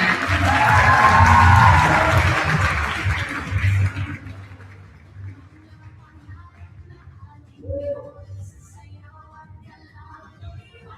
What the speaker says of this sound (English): a round of applause for Patty Ann Wheeler